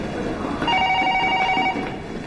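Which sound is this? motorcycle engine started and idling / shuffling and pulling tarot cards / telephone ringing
telephone ringing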